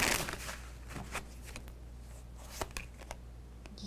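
Tarot cards are shuffled in quick bursts of soft riffling and slaps, close by and faint, with brief pauses between the flurries.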